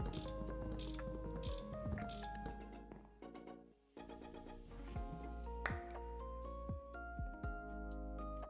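Wrench being used in the Minecraft modpack GregTech New Horizons, a series of rapid metallic ratcheting clicks and tonal mechanical chimes in repeated bursts, with a brief dip before continuing.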